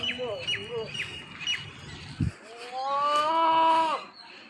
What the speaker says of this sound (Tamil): இது ஒரு கிடா ஆடு.